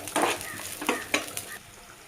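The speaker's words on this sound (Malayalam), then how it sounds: "ഒരു പാനിലോട്ട് ലേശം ഗീ ഒഴിച്ചു കൊടുത്തിട്ട് തേങ്ങാക്കൊത്ത്, അണ്ടിപ്പരിപ്പ്, കാഷ്നട്ട്, കിസ്മിസ് ഇവയെല്ലാം നമുക്കൊന്ന് വറുത്തെടുക്കാം." Coconut pieces, cashews and raisins are stirred in hot ghee in a pan for Kerala-style banana pradhaman, giving a few soft scraping stirs over a faint, close sizzle, with no talking.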